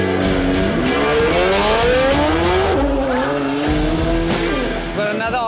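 A four-wheel-drive Nissan R34 launches hard at a car meet, its engine roaring loud and close with rising revs through the gears and tire squeal underneath, the note climbing steadily across several seconds.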